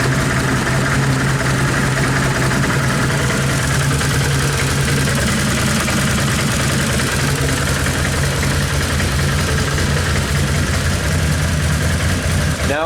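Steady idle of a 2010 Can-Am Outlander 800 ATV engine after an idle bypass workaround fix, a continuous low mechanical hum with strong low-frequency drone, close and even throughout with no revving.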